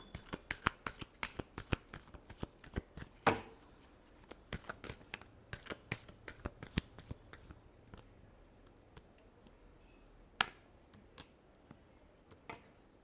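Tarot cards being shuffled in a rapid run of crisp riffling flicks, close and fairly loud, slowing to a few isolated snaps near the end with no talking.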